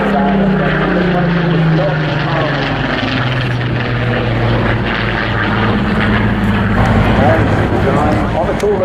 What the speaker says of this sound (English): You can see the Spitfire now